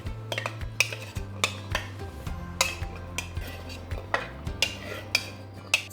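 Pita pieces are tossed with oil, salt and pepper in a bowl, giving a series of quick rattling clinks and scrapes in irregular bursts over low background music.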